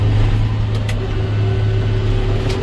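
A tractor engine drones steadily while mowing ragweed in a field, a loud, constant low hum running the whole time with no break.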